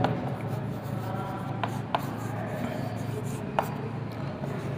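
A pen scratches across paper while someone works through a maths problem, with soft, close strokes and a few sharper ticks over a quiet room murmur.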